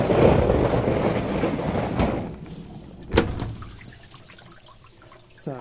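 A Miele dishwasher's spray arms whirl water around inside after a repair, giving a steady rushing, splashing wash noise with a couple of sharp knocks, fading slightly toward the end.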